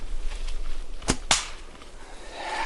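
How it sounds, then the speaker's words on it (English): Carbon arrow shot from a traditional bow set at a low brace height, striking a stump outdoors: two sharp cracks close together, the release snap followed quickly by the impact, over a light outdoor background. "I'll shoot this at this low brace height into that stump"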